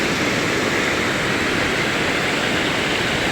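Water rushing through the current at a mini dam makes a loud, constant broadband roar with no let-up, heard up close and alone.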